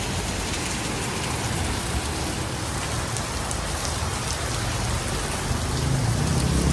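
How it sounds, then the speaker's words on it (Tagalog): Heavy rain drums down around a shop in a thick, constant wash of noise that swells slightly toward the end, with no talking. "Malakas yung ulan."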